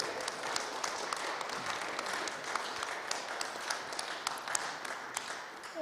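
A crowd applauds steadily for several seconds, a dense wash of clapping from many hands that holds a constant level.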